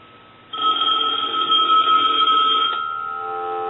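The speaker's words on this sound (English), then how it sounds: "I'll go ahead and ring it a few times." A brass Majesty telephone's bell rings loud and close in one sustained metallic trill, then tapers off into a fading ring.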